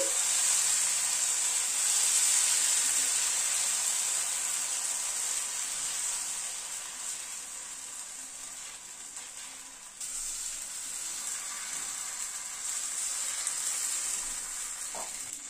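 Batter sizzles loudly on a hot tawa griddle brushed with a little oil over a gas flame, a bright continuous hiss that eases slightly midway, then swells again, with no one talking.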